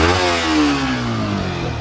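Yamaha R15 V4 motorcycle engine revving close by, a loud rev that climbs and then falls back with buzzy harmonic tone, settling toward idle within two seconds.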